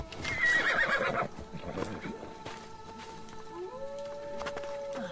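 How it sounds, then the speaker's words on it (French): A horse whinnies loudly in a video game with a long, wavering neigh, followed by softer hoof clip-clops and game sounds while people chat in French. "Vous avez un cheval en bas si vous voulez"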